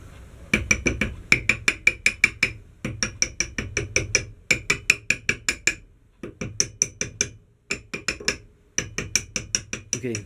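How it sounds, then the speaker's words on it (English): An axe head being hammered down onto a customised bushcraft axe handle, giving loud, sharp, metallic blows in rapid bursts of several strikes separated by short pauses, close up with no talking. "So I'm just going to be hammering it down from the top."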